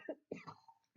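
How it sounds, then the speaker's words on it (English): A single small, quiet cough from an adult reader, a couple of short throaty bursts close to the microphone, followed by a brief voiced sound. "I had a little cough."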